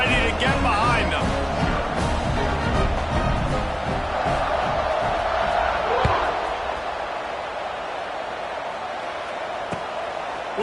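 A stadium crowd roars in a football video game, a loud, broad cheer building and swelling under a commentator's voice before easing to a lower murmur.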